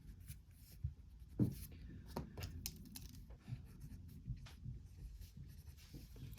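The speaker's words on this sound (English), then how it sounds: "Let me write that more clear." Pen or marker strokes on paper or a board while working a calculus integral problem, scattered short scratchy bursts across several seconds, fairly faint with a low background hum.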